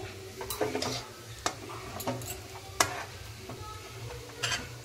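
Frying potatoes for aloo bhaja are stirred in a pan, a faint low sizzle broken by several sharp clicks and scrapes of the utensil against the metal.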